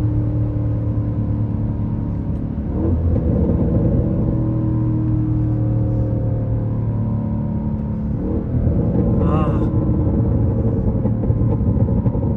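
A 2023 Cadillac CT5-V Blackwing revs on a downshift from inside the cabin, a loud, steady, deep engine drone with two brief surges as the revs jump.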